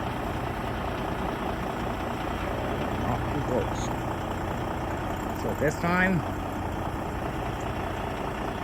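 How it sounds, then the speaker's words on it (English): A Pierce pumper fire engine's diesel idles as a steady low rumble under a man's speech, with a short rising whine partway through. "This time engine 31 will have the diesel engine get going."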